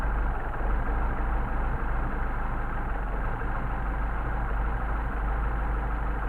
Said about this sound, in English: Now backing it back out, the screw's coming back out where we get our max RPM and best running.